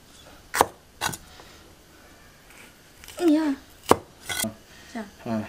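A kitchen knife chops food on a cutting board as a child helps her father cook, giving several sharp, separate knocks spaced unevenly, with people speaking softly between the cuts.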